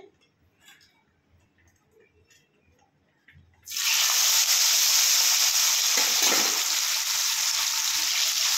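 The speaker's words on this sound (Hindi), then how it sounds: "একটা করে মাছগুলো দিয়ে দেবো, দিয়ে ভেজে নেবো মাছগুলো" Salt-and-turmeric-coated fish pieces drop into hot oil after a quiet start, setting off a sudden, loud, steady sizzle that carries on to the end.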